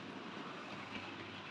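A Lima Mark III model train rolls through a goods yard on a layout, a faint, steady rumble with soft rail clatter and no talking.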